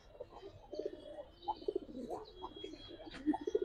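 A male Giribaz silver pigeon coos repeatedly in soft, rolling bursts, the calls close and moderately loud against a faint background hum.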